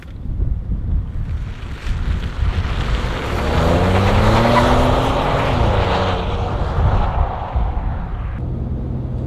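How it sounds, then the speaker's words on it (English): An automatic-transmission car accelerates on a road test, heard from inside as a steady loud engine drone rising in pitch under heavy wind and road rumble, with no talk. "for this part of the road test, we're going to see how the vehicle accelerates"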